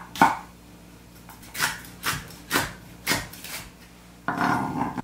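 A kitchen knife slices a celery stalk on a diagonal, giving a run of crisp, evenly spaced cuts against the board, close and clear with no talking.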